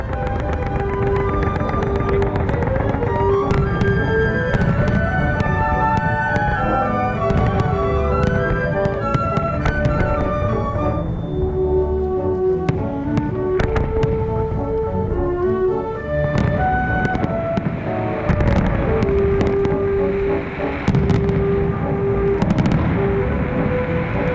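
Fireworks and giant firecrackers of a mascletà show at the Fallas festival in Valencia, Spain, bang and crackle in rapid bursts, loud and continuous, with music playing underneath.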